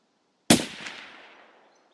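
A single sharp sniper rifle shot in a first-person shooter, close and loud, its crack trailing into a long fading echo over about a second with nothing else around it.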